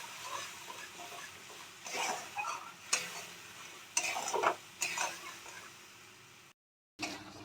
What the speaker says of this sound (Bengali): এবার আমি স্লো ফ্লেমে মশলাটা ফ্রাই করে নেব।